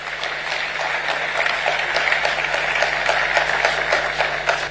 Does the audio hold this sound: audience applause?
yes